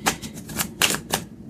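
Tarot cards are shuffled up close in a rapid series of crisp, papery riffles and flicks. The bursts come at an uneven rhythm with brief gaps between them and no voices.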